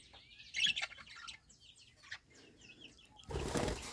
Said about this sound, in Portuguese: Assim é os periquitos dele, ó.